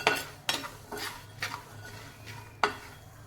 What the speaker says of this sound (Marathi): मीठ चांगलं गरम झालेलं आहे आता त्याच्यामध्ये मी थोडेसे दाणे घातलेले आहेत